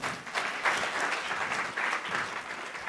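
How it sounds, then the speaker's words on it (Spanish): Steady applause from an audience at a business talk on active tourism and rural lodging, moderately distant and fairly soft, a continuous patter of many hands without a break. "un fuerte aplauso"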